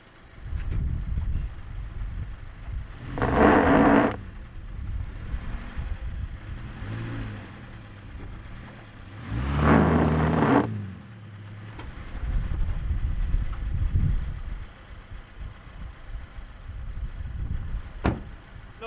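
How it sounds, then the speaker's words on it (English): An off-road vehicle high-centered on a muddy trail revs its engine in two loud surges as the wheels spin in mud, dropping back to a lower rumble between bursts and fading near the end. "No luck, I'm just spinning on that high centered."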